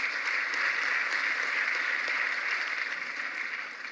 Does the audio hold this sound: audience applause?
yes